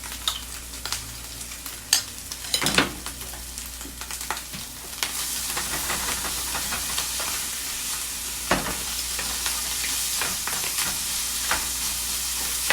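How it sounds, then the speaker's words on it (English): Kimchi fried rice sizzles steadily in a hot pan, with a spoon scraping and stirring through it in irregular knocks and scrapes over a continuous close frying hiss. "So I put the rice right directly in the heat."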